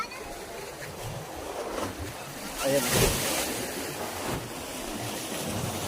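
Sea waves wash and rush in a steady broad hiss with gusts of wind, and a person briefly speaks over the surf.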